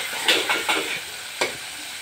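Onions fry and are stirred in a pan, a continuous sizzle punctuated by four quick spoon scrapes, three close together early and one more a moment later.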